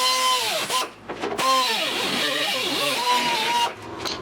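A cutting wheel slices through a continuously welded body panel on a 1972 Triumph GT6, a loud, close, steady grinding whine whose pitch sweeps up and down as the disc bites and eases, with a short break partway through.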